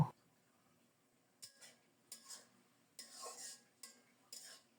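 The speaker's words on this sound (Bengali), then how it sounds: "এখন শুধু নেড়ে চেড়ে শাকের জলটা সামান্য শুকিয়ে নেব" Jute greens being stirred in a pan, several short scraping bursts of a utensil against the metal with pauses between them, close and fairly faint, no talking.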